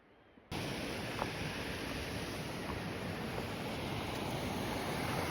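A sizable mountain creek rushes along a trail, a steady broadband roar that starts abruptly and holds constant and fairly close, with no voices.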